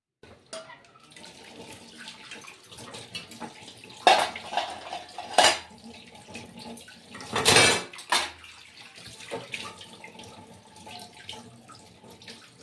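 In a home kitchen sink, tap water runs while dishes are washed. Pots, plates and cutlery clatter close by, with louder bursts of water and clinks in the middle and no speech.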